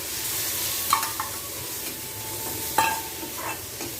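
Potato masala with salt and asafoetida is sautéed in a pan, a soft steady sizzle broken by a few sharp spoon scrapes and clinks, close and fairly quiet.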